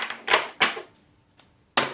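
Thick oracle cards are shuffled in a few sharp, close, papery slaps and riffles, separated by brief pauses.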